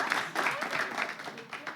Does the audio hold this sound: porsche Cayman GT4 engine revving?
no